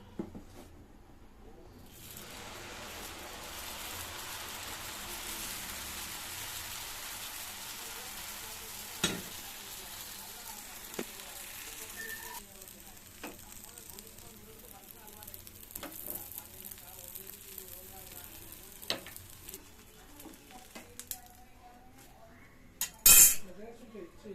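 Dosa batter spread on a hot pan, giving a long low sizzle with occasional clinks of a spatula and utensils and a louder metallic clatter near the end, no talking.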